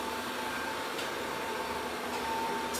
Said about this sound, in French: je vais arrêter l'aspirateur et j'entends le bruit qui m'énerve en fait